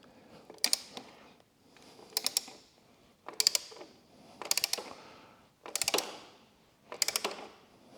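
Torque wrench ratcheting as bolts are tightened on a Ducati Desert X motorcycle, six evenly spaced bursts of quick metallic clicks, close and clear in a quiet workshop.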